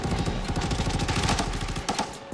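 Rapid automatic gunfire from the Arena Breakout shooter game, bursts of dense repeated shots running loud and close throughout with no talk.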